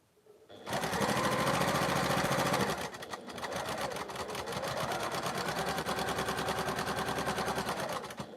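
A hand-crank sewing machine stitches patchwork fabric. It starts with a loud, continuous mechanical whir, then briefly slows and carries on in a rapid, even rattle of stitches, close and with no talking.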